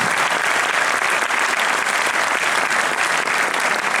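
A concert audience applauds a male choir's conductor, sustained, steady and fairly loud clapping from a large crowd with no letup.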